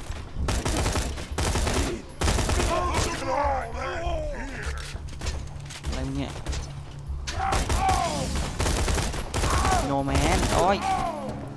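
Rapid bursts of gunfire from the shooter game Borderlands 2 crackle in dense volleys with thuds and mechanical clanks, loud and near, while players talk excitedly over the shooting.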